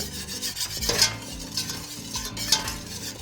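Chili powder mixed with flour cooks in a pan for enchilada sauce, a soft sizzle under repeated close scraping stirs of a utensil against the pan.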